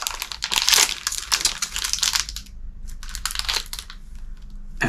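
Plastic blind-bag packaging of a Disney Doorables figure is torn and crinkled open close up, with loud crumpling bursts for a couple of seconds, then a brief pause and more rustling.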